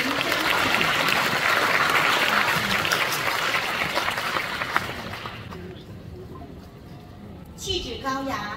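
An audience at a Lions Club music concert gives dense, sustained applause to welcome the club president, fading gradually over several seconds before a voice begins speaking.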